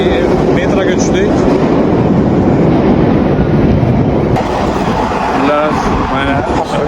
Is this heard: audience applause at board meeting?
no